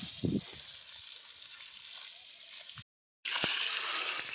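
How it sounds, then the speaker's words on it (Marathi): Water is poured and sprinkled onto garden soil to moisten it before digging, giving a steady, close wash of splashing and trickling that runs continuously, breaks off briefly, then resumes. "चला असं पाणी देणं चालू आहे"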